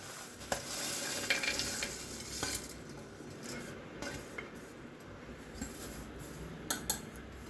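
Peanuts, grated coconut, garlic and green chillies frying in a pan, a soft continuous sizzle under scraping spatula strokes and occasional metallic clinks against the pan.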